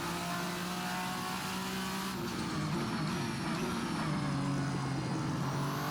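VRC Vendetta V60 race car in Assetto Corsa, a steady engine drone holding high revs with a shift in pitch partway through, continuous and close with no talk.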